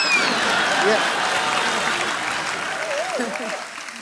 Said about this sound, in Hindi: जोरदार हाय तालियां